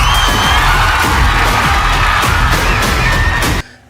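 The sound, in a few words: studio audience cheering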